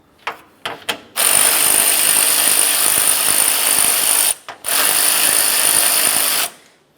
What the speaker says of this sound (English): Let's move along to removing the top AC condenser mounting bolts. We'll use a 10mm for these.